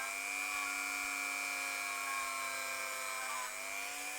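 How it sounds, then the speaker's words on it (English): A Draper Dremel-style rotary tool runs continuously with a steady high-pitched whine and buzzing motor tone, dipping slightly in pitch near the end, heard alone. "Does a great job, this Dremel, this Draper."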